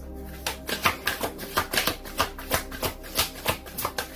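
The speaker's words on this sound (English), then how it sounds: "We have the Universal Love Oracle cards." Universal Love Oracle cards shuffled close up in a steady rhythm of about a dozen crisp riffling snaps that repeat evenly.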